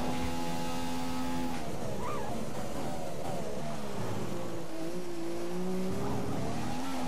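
A Formula 1 car in the F1 2015 racing game on a practice run in Austria, with a steady, loud engine whine that rises and falls through gear changes, plus some tyre noise, heard alone without talk.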